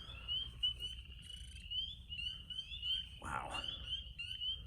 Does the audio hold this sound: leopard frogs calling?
yes